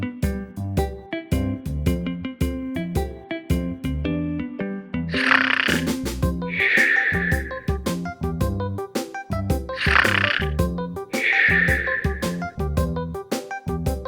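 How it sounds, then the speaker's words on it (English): A person snores in two slow cycles, each a rasping, throaty snort followed by a drawn-out wheezing exhale, set over light, playful background music. "The sound of snoring."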